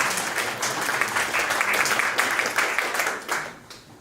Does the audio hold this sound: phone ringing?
no